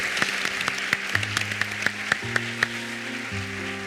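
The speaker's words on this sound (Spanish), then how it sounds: "ahora sí que esta ovación es para despediros y daros las gracias por estar aquí con nosotros" Ovation at a conference session on post-pandemic oncology, applause thanking and farewelling the speakers: sharp individual claps ring out in a quick steady pattern, backed by a warm ongoing sound of the hall, with no talk.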